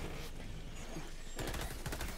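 Video game gunfire sounds as faint, dense rapid bursts that swell into quicker crackling volleys toward the end, set against a busy low background.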